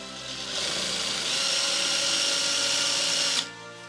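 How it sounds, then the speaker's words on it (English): A high-pitched electric drill whines steadily for about three seconds while drilling into a screw, starting abruptly and cutting off near the end, close and loud. "Then I take the drill and drill 2 little holes inside the screw."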